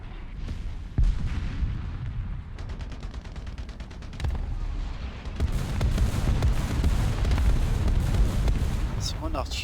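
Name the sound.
artillery strike called in, video game War Thunder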